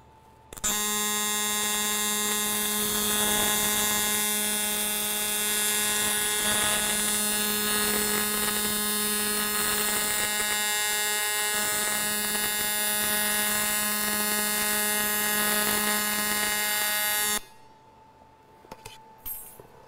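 AC TIG welding runs a bead on aluminum with a loud, steady electrical buzz and hum that holds for about seventeen seconds and then cuts off abruptly, leaving faint background noise.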